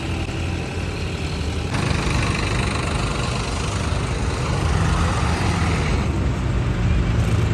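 A steady low rumble of tractor engines running nearby during Punjab flood embankment work, continuous and loud throughout, with no clear speech.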